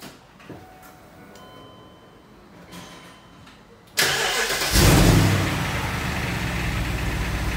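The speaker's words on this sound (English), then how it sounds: "Now we're gonna start the car and see what the suspension does." A 2005 BMW X5 E53 with newly fitted rear air suspension cranks and catches after a few seconds of quiet shop noise, then settles into a steady, fairly loud idle close by.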